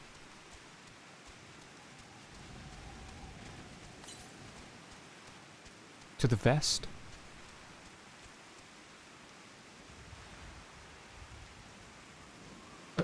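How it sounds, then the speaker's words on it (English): Torrential rain falls in the video game Final Fantasy XIV as a continuous soft wash of rain. A sudden loud burst of noise cuts in around the middle, and a brief spoken phrase is heard. "It's the fucking torrential rain, it's not stopped."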